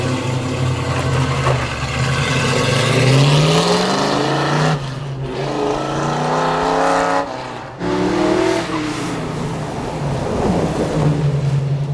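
A 1965 Ford Mustang with a four-speed runs on a dyno, its engine loudly climbing through rising revs in long sweeps, briefly cutting off between pulls before winding up again.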